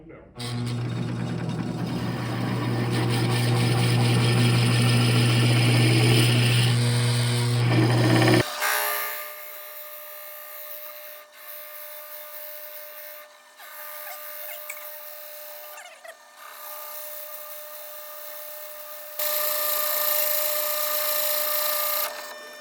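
A Forstner bit bores into wood on a woodturning lathe, starting with a loud, steady grinding whine that stops partway through. After that come quieter rubbing and scraping sounds, with occasional talking in the background.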